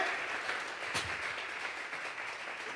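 A church congregation claps hands together in a faint, continuous wash of applause that sounds distant and fairly soft throughout.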